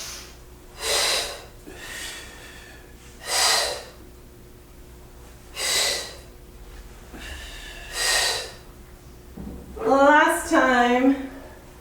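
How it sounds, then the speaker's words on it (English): Steady inhale-exhale breathing during a Pilates and yoga session, about five soft breaths spaced a few seconds apart, close and fairly quiet, followed by a brief spoken phrase at the end. "Inhale, exhale."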